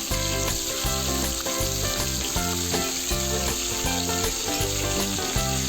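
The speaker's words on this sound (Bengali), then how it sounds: "মাংসগুলো এভাবে ভেজে নিচ্ছি।" Marinated quail meat fries in a pan of hot oil, a loud, dense, continuous sizzle with crackling bursts and occasional stirring scrapes, close up and with no voices.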